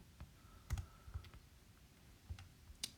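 Calculator keys are pressed in a short, uneven series of quiet clicks, several crisp taps spaced apart in a hushed room with nobody speaking.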